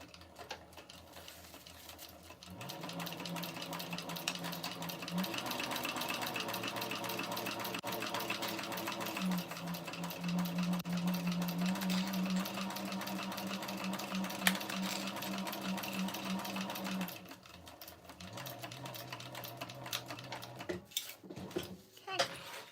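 Sewing machine stitching a modified EBTM tote bag, running in steady motor bursts of several seconds with short pauses between runs, close and alone.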